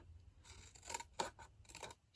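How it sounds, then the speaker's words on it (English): Small craft snips cut through paper in short, crisp bursts, about four or five quick snipping strokes spaced irregularly, close and fairly quiet with no talking. "I do like using my snips for this."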